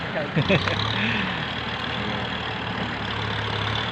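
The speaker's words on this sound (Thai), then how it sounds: "ดูรถไถจะขึ้นได้ไหมครับ" A farm tractor engine climbing a slope: a steady engine drone with a low hum runs throughout, with a few brief voice-like sounds early on.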